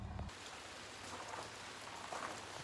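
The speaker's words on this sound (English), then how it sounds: "I don't know if the camera can hear the rain on top of the tent right now" Steady rain patters on the top of a tent at a Pacific Crest Trail camp, a dense continuous hiss with no talk over it.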